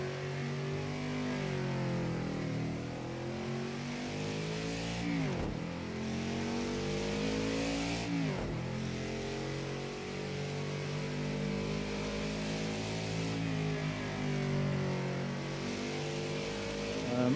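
A race car engine in Project Cars 2 drones continuously while practicing heel-toe downshifts, its pitch climbing and falling, with two quick sharp rev blips partway through. The engine is loud and steady throughout, with no voices.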